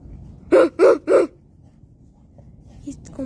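A person imitates a dog with three quick, loud voiced barks in a row, close to the microphone, followed by quiet room sound and faint small noises.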